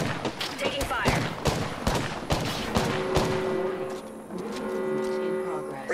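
Rapid video game gunfire crackles in clustered bursts for a few seconds, then gives way to a sustained electronic hum, with a voice speaking briefly over the action.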